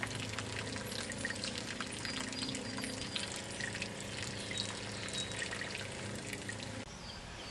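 Purified water from a hand-pumped filtration system pours into a drinking vessel, a steady close splashing and trickling rush that eases off near the end, with no talk.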